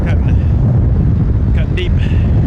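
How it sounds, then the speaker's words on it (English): Cold, cutting wind buffets the microphone outdoors at Toronto Pearson airport, a loud continuous low rumble with gusting bursts throughout, and faint traces of a voice in the background. "Ooh, that wind is cutting"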